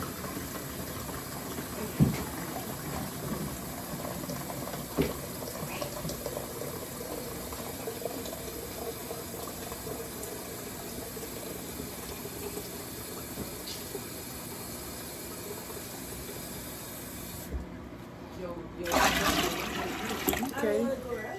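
Water runs into a new T-fal canning pot, a steady hiss and splash lasting throughout with a few sharp knocks, getting louder and fuller near the end; a voice talks over it.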